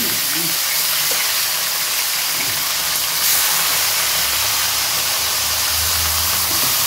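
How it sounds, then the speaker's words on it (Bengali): Soaked raisins frying in hot oil give off a steady hissing sizzle, close and continuous, with faint low background hum and a voice speaking briefly underneath. "তুলে নিয়ে এই তেলেই আবার কিশমিশ ফ্রাই করব"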